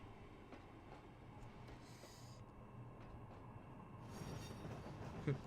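Simulated TGV Thalys high-speed train in Trainz Simulator 2 near Paris Gare du Nord, a steady low rumble of running rail noise with faint hissing swells, no talk over it.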